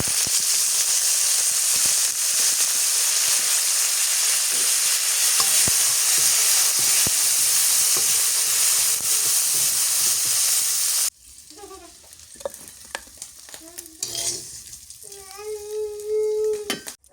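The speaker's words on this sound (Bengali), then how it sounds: "শুকনো মরিচ রসুন ভাজা হয়ে গেছে, এবার দিয়ে দিই ধনিয়া পাতা" Dried chili and garlic frying in hot oil, with coriander leaves then tossed in, give a loud, steady hiss and sizzle for about eleven seconds. The sizzle then drops to a softer crackle with utensil clinks, scraping and a voice talking.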